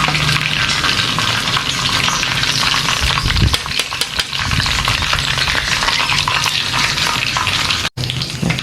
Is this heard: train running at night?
no